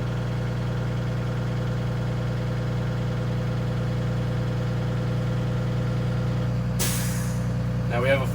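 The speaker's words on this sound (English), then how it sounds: "We heard the air brake sneeze, and when it got to the cutout at approximately 125 psi." A school bus air brake system builds pressure to about 125 psi and the governor cuts out with a sudden loud hissing sneeze near the end, over a steady engine idle drone.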